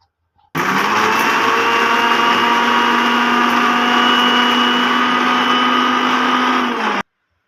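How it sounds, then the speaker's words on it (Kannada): A mixer grinder whirs loud and steady for about six seconds, grinding green chillies, ginger and garlic into paste, starting and stopping abruptly with a constant high motor whine. "1 ಗಡ್ಡೆ ಬಿಡಿಸ್ಕೊಂಡಿರೋ ಬೆಳ್ಳುಳ್ಳಿ ಮಿಕ್ಸಿಗೆ ಹಾಕ್ಕೊತಾ ಇದ್ದೀನಿ"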